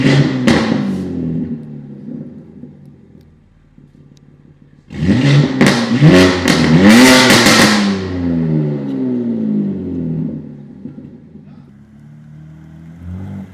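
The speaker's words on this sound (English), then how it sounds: "showcase you a few videos of how the car sounds from the outside" A BMW G80 M3 fitted with a 200-cell DCE downpipe and single midpipe resonator delete, heard from outside as two short revs followed by a louder, longer rev that climbs and then settles back to idle.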